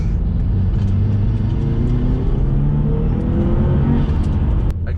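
Turbocharged car engine with a pod-style air filter fitted, running loud and close with a steady deep rumble and rising whooshing turbo intake tones that climb and fall over several seconds.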